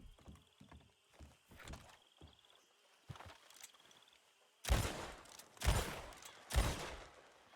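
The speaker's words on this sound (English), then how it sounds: "Try to shoot in the air" Gunshots fired into the air in RedM, a western roleplay game: several faint, distant pops with hoofbeat-like thuds early on, then three loud, close, booming shots spaced about a second apart.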